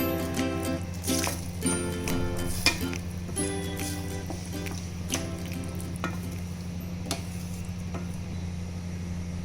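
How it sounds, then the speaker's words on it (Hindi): Masala for a potato and tomato curry sizzles and fries steadily in a pan, with a glass of water tipped in amid scattered stirring clinks and a constant low hum underneath. "यहाँ पे हम 1 गिलास पानी डाल रहे हैं।"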